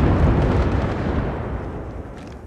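A burst of gunfire in Apex Legends Mobile, loud and dense at first, then fading over a couple of seconds as a rumbling decay.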